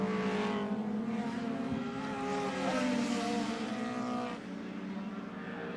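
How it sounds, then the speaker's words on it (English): Touring cars race at Lakeside circuit in 1989, including a Nissan GT-R turbo, with loud engines screaming past and shifting pitch as they pass close by, no commentary over them. "Richards manhandles the Nissan GTSR Turbo"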